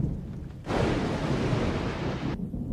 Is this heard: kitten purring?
no